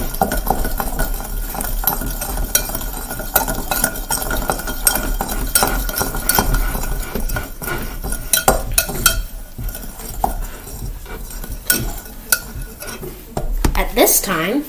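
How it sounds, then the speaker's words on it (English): Homemade brownie batter is mixed in a bowl by hand, making a busy run of repeated clinks and scrapes of a utensil against the bowl, close and fairly loud, ending in a few louder knocks. "Mix it all together."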